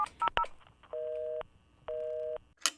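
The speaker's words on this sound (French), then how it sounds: "se jette sur son téléphone, compose fébrilement le numéro de l'officier" A telephone number is keyed in with a quick run of DTMF beeps, followed by two long ringing tones on the line, close and clean with no talking.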